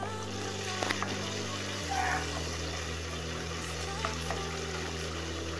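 Shrimp and bamboo shoots being stirred in a pan make a steady, soft sizzle beneath a low continuous hum, with a few faint scrapes and clinks scattered through it.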